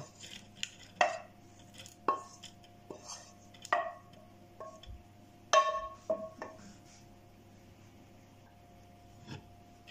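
Eggs, crème fraîche and pan-cooked bacon lardons being mixed for a quiche lorraine, heard as sparse clinks and scrapes of a utensil against a bowl in short irregular bursts, fairly quiet and close, with no talking.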